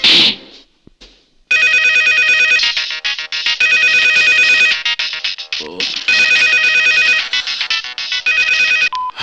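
After a number is dialed, a phone rings with a loud electronic ringtone. The bursts repeat in a patterned rhythm for several seconds after a brief quiet start.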